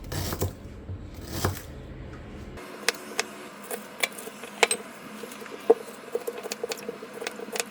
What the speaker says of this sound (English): Cut your ginger.